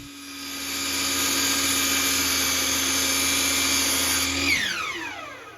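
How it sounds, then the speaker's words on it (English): Power saw cutting an angle into a wooden mid-century coffee table leg: a loud, steady high whine with a tonal hum that holds for about four seconds, then winds down as the blade spins to a stop, no talking. "I cut the same angle into the other end of my 4 legs."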